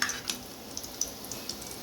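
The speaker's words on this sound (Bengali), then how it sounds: "তো আমার কাবাব ভাজা কমপ্লিট এখন আমি উঠিয়ে নেব কাবাবগুলো" Kebabs fry in a pan with a steady, close oil sizzle, broken by small crackles and light ticks from the cooking.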